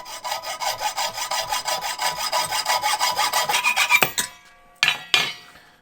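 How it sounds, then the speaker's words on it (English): A hacksaw cuts through a piece of copper tubing in quick, regular back-and-forth rasping strokes, close and loud, then slows to a few final separate strokes as the cut finishes. "Just cut off a piece of copper tubing."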